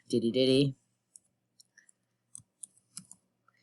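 Typing on a computer keyboard: a handful of sparse, crisp key clicks at close range following a brief spoken phrase, otherwise quiet.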